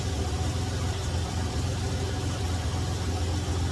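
The engine of a 1991 Ford Ranger XLT idles steadily during a radiator replacement and coolant refill, a constant low hum with no break.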